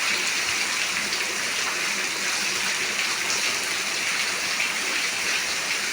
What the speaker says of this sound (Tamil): பாருங்கள் மழையை திருப்பி காட்டுறேன் பாருங்கள்.